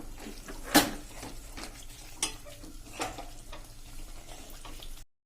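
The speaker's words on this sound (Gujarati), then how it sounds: "અને કન્ટિન્યુ આપણે હલાવવાનું ચાલુ જ રાખશું" Spoon stirring a besan and ghee Mesub mixture in a pan over a medium gas flame, producing scattered scraping clinks against the metal with a soft, faint sizzle underneath.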